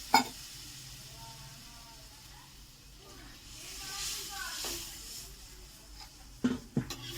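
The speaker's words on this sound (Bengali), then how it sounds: "তো খুব সুন্দর টকবক করে ফুটে এসছে" A thin curry broth with bata fish boils in a pan, giving a faint, steady bubbling and hissing simmer. A few louder clicks and knocks come near the end.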